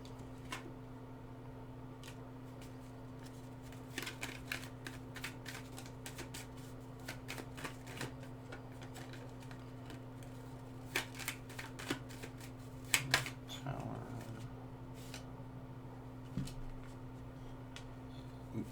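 Cards are shuffled quietly with a run of soft rapid riffles and taps over a low electrical hum, with a brief louder flurry midway.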